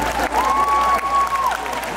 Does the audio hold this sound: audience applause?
yes